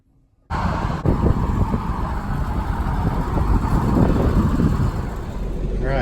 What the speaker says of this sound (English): this is Frank driving his 4104.